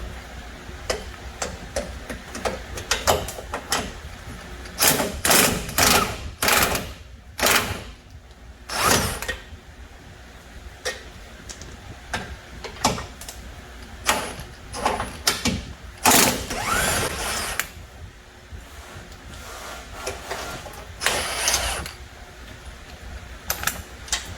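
An air impact gun rattles in short, fairly quiet bursts while loosening engine mount bolts on a 2006 Toyota Corolla S, with pauses between the clusters of hammering.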